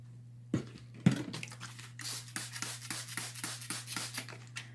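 After a couple of handling knocks, a spray bottle hisses in a quick series of about a dozen short, even bursts onto a paper craft piece for a fall decoration, close and fairly quiet.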